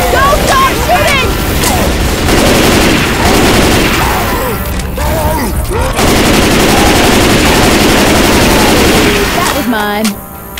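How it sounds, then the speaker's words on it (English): Rapid gunfire from the Left 4 Dead 2 Dark Carnival barns finale fills the scene, loud sustained bursts of shooting with booms and shouted voices over the top. "Don't stop shooting!"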